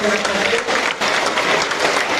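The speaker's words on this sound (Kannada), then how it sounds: "ಚಪ್ಪಾಳೆ" A school audience at an investiture ceremony in Sri Basaveshwara English School, Nelamangala, breaks into loud, dense clapping for a correct quiz answer, a short sustained burst of many hands close by.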